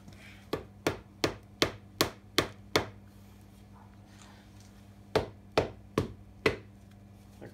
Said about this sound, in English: So let me try to find my trusty mallet.